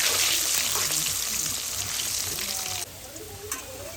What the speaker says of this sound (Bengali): এখন আমি বেশ অনেকটা পরিমাণ তেলে একটু গোল্ডেন ব্রাউন করে ভেজে তুলে রেখে সাইডে সরিয়ে রাখবো